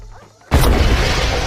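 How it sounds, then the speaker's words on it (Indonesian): A flashbang grenade goes off amid a crowded event: a sudden loud, close blast after a quiet moment, followed by a sustained roar of noise and commotion. "melemparkan flashbang ke tengah-tengah acara"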